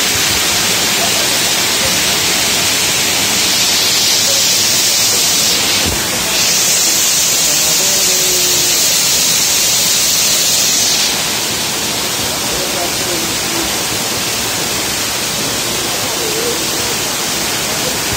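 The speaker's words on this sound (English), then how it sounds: "So, this is the waterfall." Waterfall flowing at the Amabere caves near Nyakasura, Fort Portal, Uganda, a loud continuous broadband rush of falling water that stays steady throughout, close to the microphone.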